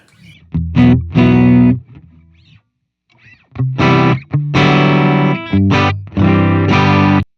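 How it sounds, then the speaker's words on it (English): Electric guitar through a Fender Studio Pro amp with a green box overdrive pedal, played in bursts of chords and notes, gritty and loud, with a short silent gap between phrases. "I have a green box drive just so you can hear the amp"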